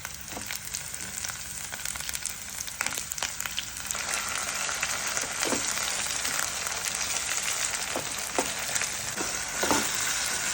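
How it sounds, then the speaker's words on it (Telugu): Tomatoes and curry leaves frying in a pan, giving a continuous crackling sizzle that grows a bit louder partway through, with occasional sharp pops and stirring scrapes and no voices. "దీనిలో కరివేపాకు కూడా వేసుకోండి ఇలా బ్రౌన్గా వేగిన తర్వాత టమాటాలు వేసుకోండి"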